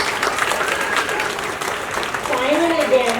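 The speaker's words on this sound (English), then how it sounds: "Let's give all of them a big round of applause." Audience applause at a talk event, a steady clapping wash with faint voices and crowd murmur mixed in, the clapping carrying on as a voice rises near the end.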